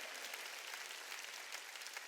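A church congregation at a Wednesday worship service claps together, a steady, even patter of many hands that stays faint and distant throughout, with no voices over it.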